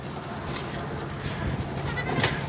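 A few short goat bleats come from a herd on a migration from Arizona to Colorado, sounding over constant low outdoor noise.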